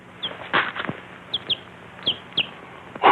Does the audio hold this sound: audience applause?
no